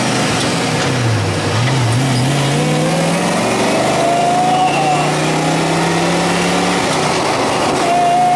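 A 550 hp PT5 dune buggy engine with a new five-speed gearbox revs loudly and continuously from inside the vehicle, its pitch climbing and falling through several rises, a steady roar with no break.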